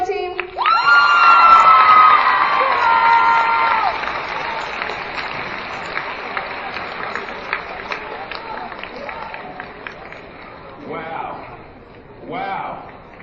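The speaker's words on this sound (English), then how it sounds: "Give them another round of applause." A school audience at a veterans assembly claps and cheers for a drill team. Loud applause in a large room opens the clip, then thins into scattered claps and crowd murmur with brief shouts.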